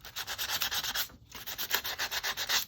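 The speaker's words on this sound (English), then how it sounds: "I'm just gonna sand some of the sides a little bit." Sandpaper rubs back and forth over the painted sides of a handmade Christmas tree ornament, making a steady rhythmic scratching of short strokes with a brief pause midway, close and moderately quiet.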